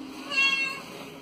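A frightened abandoned black kitten gives a single clear, high meow, close and fairly loud against a quiet background.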